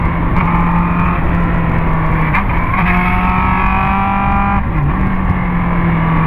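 A Honda Hornet motorcycle, its fuel pump problem just fixed, revs hard up through first, second, third and fourth gear, a loud, close engine drone whose pitch climbs and then drops briefly at each shift.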